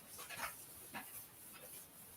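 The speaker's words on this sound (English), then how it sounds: "Barking." A dog barks faintly in the distance, a few short, scattered barks over a steady background hiss.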